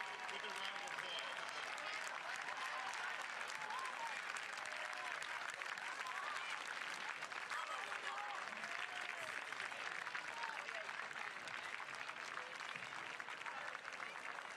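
A stadium crowd at a Salesianum varsity football game against Appoquinimink High School gives steady, sustained applause for veterans. The clapping sounds distant and continuous, with faint crowd voices mixed in.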